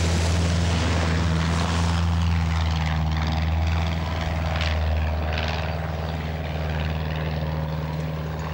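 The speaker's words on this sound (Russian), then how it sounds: "А почему самолет такой маленький?" A small propeller airplane drones nearby, its engine giving a loud, steady, deep hum with strong tonal bands that holds for several seconds without speech.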